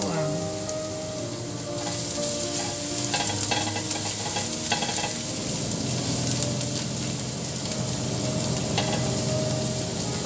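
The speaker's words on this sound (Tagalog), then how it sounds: "Papulahin lang natin, pa-brownin lang natin yung ating bawang" Garlic frying in hot oil gives off a constant close sizzle and crackle, with occasional stirring scrapes in the pan, steady and fairly loud across the whole stretch.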